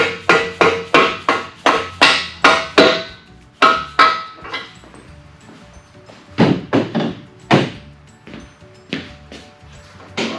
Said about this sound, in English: Next, I'll take a brass punch and a dead blow hammer